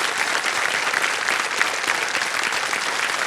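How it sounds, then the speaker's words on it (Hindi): A studio audience at a televised quiz show claps for a contestant, a dense, steady burst of applause filling the whole moment at a constant level. "अरे ताली बज जाए इनके लिए"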